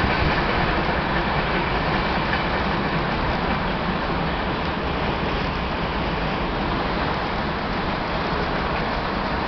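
A mixed freight train rumbles past steadily and loudly, a continuous rolling roar with faint rhythmic clatter of wheels on rails, no pauses throughout.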